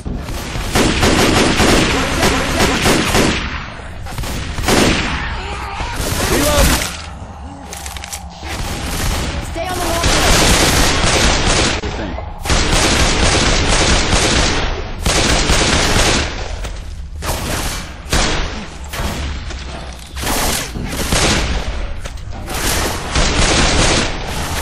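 Rapid bursts of loud gunfire and booming shots fill a Left 4 Dead match played with the GoldenEye mod, firing in dense, near-continuous volleys with short gaps, while players shout over the action.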